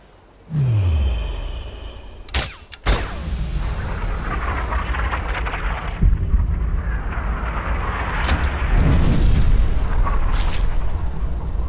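A sniper rifle shot in the video game Sniper: Ghost Warrior: a loud, booming report with a deep rumbling tail, then two sharp cracks, followed by sustained gunfire and battle noise.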